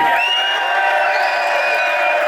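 A festival crowd cheers and whoops loudly and steadily, a dense wall of many voices at an outdoor American-themed music and food event.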